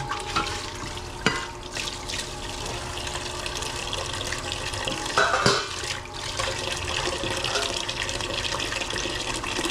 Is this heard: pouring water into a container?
yes